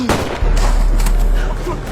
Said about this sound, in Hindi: सामने वाला आदमी लगातार गोलियां चला रहा है।